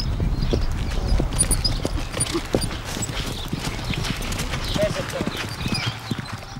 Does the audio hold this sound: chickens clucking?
no